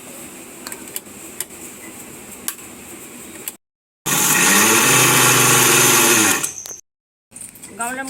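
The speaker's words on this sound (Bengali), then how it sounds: "মিক্সিং জার নিয়েছি এর মধ্যে আমি পাতাগুলো পেস্ট করে নেব" An electric mixer grinder whirs loudly for a few seconds, grinding leaves into a paste, after quieter clicks and handling noises and before a brief pause.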